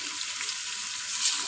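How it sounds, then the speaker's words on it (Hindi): Mutton bones and meat for nalli nihari sizzle steadily in a pot over a raised flame, a continuous close frying hiss with no voices. "गोश्त को अच्छे से फ्राई करना है"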